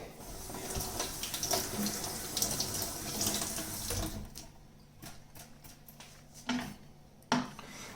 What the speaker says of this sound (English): I'm also going to wash this.